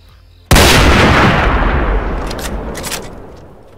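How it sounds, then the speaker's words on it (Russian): Sniper rifle gunshot in the video game DayZ, a single sudden loud blast with a long rolling echo that fades over several seconds, no talk. "Это что за выстрел? Да он стреляет, это снайперка"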